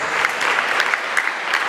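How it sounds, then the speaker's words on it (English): A church congregation claps for the choristers in a brief, lively burst of applause, close and steady with a few sharper claps standing out. "let us give them a hand of applause"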